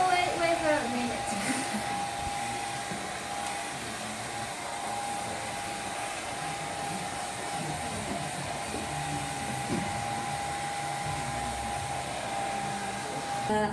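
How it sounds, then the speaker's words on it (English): A hair dryer runs steadily and loudly with a constant whine and airy rush, drying paper for a flame and invisible ink demonstration, continuing unbroken throughout. "We need to use the hair dryer to let the paper dry."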